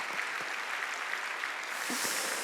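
Church congregation clapping during a Sunday worship service at a Korean Jesus-centered church: an even, sustained patter of many hands in a large hall, moderately loud and steady, swelling slightly toward the end with no speech.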